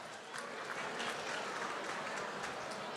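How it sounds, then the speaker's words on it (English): Sustained applause from a gala dinner audience, a broad steady wash of many hands clapping throughout, fairly distant and even in level. "a very big round of applause for all the gold sponsors"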